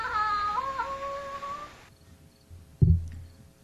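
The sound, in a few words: creature mewing like a lost kitten, horror sound effect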